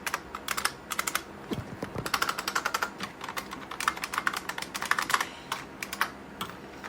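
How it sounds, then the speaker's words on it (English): Someone types on the keyboard of an old Pentium III computer during a Linux install, a close run of quick, uneven plastic key clicks with brief pauses between bursts. "But my keyboard clearly works."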